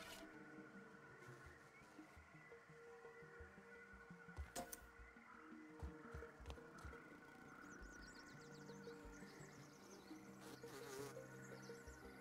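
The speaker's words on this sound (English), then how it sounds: "There's a lot of tiger mosquitoes and mosquitoes." Mosquitoes and tiger mosquitoes drone in the video game Grounded, a faint buzzing hum with insect chirps and scattered clicks over a low ambient bed, no talk.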